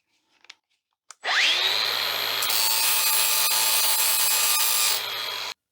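An angle grinder bites into a piece of stainless steel scrap, a steady high-pitched whine spinning up sharply and holding for about four seconds before cutting off, loud and close.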